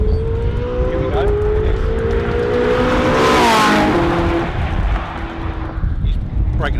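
A McLaren 675LT and a Porsche 4.0 RS race at Goodwood. Engines build from a distance, peak loudly as they pass close by, then fade, while people talk nearby.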